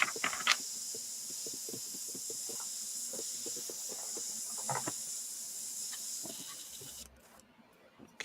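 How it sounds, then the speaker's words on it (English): Airbrush being cleaned out, a steady thin hiss of air running for about seven seconds with scattered small clicks and taps, then cutting off into near quiet. "Clean out our airbrush."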